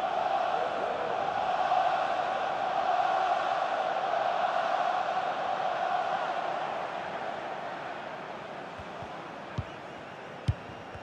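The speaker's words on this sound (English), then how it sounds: "The crowd certainly think so. Just listen to them." Video game stadium crowd at an Arsenal versus Spurs football match in EA Sports FC 24, a steady loud roar of massed voices that slowly eases, ending with a couple of sharp knocks.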